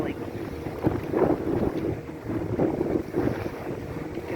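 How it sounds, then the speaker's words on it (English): Steady northwest wind roars, whistles and buffets across the microphone aboard a houseboat on the St Johns River, Florida, with low rushing gusts swelling and easing over a constant blustery background. "We're going right into a northwest wind. I don't know if you can hear it whistling."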